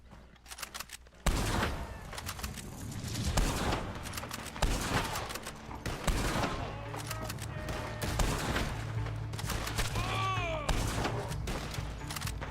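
Gunfire rings out during shooting practice in Red Dead Online, a western game, with rapid clusters of close, loud shots and scattered single cracks, followed by steady game clatter and occasional faint voices.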